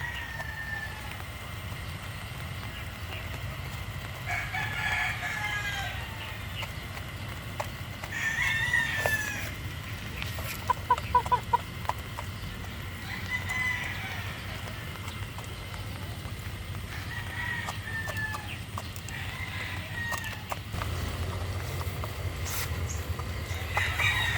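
Chickens cluck amid a busy barnyard, with a rooster crowing and scattered sharp clatter over a steady low rumble.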